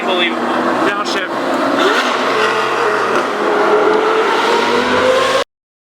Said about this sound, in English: Lamborghini Gallardo Superleggera with a straight piped F1 sounding V10